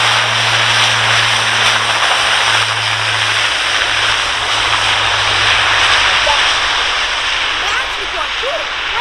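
Engines of a German Air Force Airbus A400M Atlas turboprop military transport from Air Transport Wing 62, a loud, steady, broadband roar on a runway at an air show, with a low hum fading partway through.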